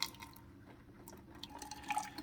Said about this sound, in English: That's going to shoot hot water through those needles.